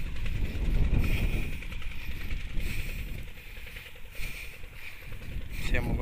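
Ikeda 7.5 hp engine driving a sand suction pump at a tin mining site, a steady loud chugging drone with watery rushing that holds throughout.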